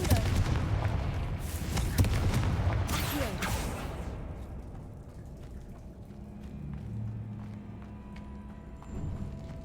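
A Confringo spell explosion in a Harry Potter video game erupts as a dense burst of blasts and crackling debris over the first few seconds, then fades into quieter ambient game sound with a low hum.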